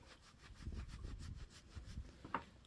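Ponies scratch and rub themselves against wood, making soft rhythmic rasping strokes that repeat steadily, faint and close, with no voices.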